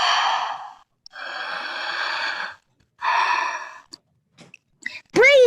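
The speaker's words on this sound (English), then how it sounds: "Breathing!" Slow, audible breathing close to the mic, several long airy breaths in and out with pauses between, ending in a few faint clicks and a brief rising vocal sound.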